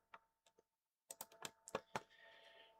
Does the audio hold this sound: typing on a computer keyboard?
yes